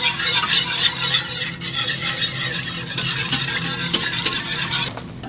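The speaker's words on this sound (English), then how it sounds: "And you wanna whisk it while you're pouring it in." A whisk stirs milk into a macaroni and cheese sauce in a pan, a close, continuous rapid scraping and swishing with a slight sizzle, steady until a brief pause near the end.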